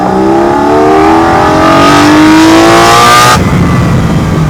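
A car engine fitted with an aftermarket air filter revs loudly and close, its pitch climbing steadily for about three seconds before cutting off abruptly and dropping back to a lower rumble.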